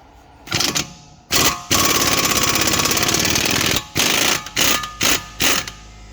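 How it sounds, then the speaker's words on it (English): Impact wrench loosening control arm bolts on a Nissan Pathfinder, loud and close: short rattling bursts, then one long hammering run of about two seconds, followed by several quick bursts. "And I'm going to just use my impact. This is going to make life so much easier for me."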